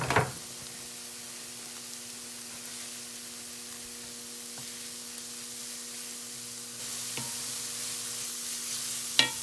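Minced garlic sizzles faintly in a pan with a soft, steady frying hiss, broken by a few utensil taps and stirring knocks. The hiss swells slightly toward the end.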